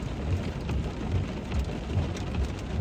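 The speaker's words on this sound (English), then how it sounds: "I've been taking on hail for about 5 minutes. Most of it's pea-sized," Pea-sized hail and rain fall during a Texas storm, a dense, steady patter on surfaces with low rumbling underneath, close and continuous without speech.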